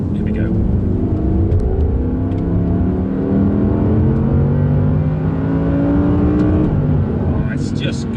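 An Audi R8 RWD accelerates hard, its engine note climbing loud and close through the revs with a brief break as it shifts, while someone speaks excitedly over the droning engine.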